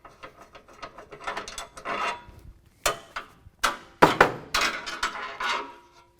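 Mechanical clicks, ratcheting and metallic clunks as a suspension tensioner is let off on a 2017 Chevrolet Silverado 2500 HD during a lift kit install, a run of sharp close taps and releases with brief pauses, no talk.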